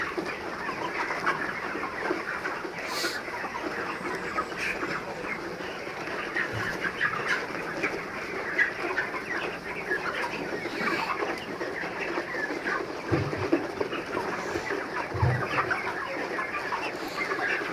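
A flock of chickens on a poultry farm clucks and calls steadily throughout, a dense, continuous chorus of overlapping hen sounds with occasional louder squawks.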